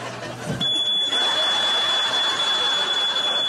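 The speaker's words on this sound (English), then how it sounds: "Your smoke alarm's not exactly on the ball either" A sustained high-pitched electronic alarm tone, like a smoke alarm, rings steadily and loudly after a brief low thump, with hissy background noise.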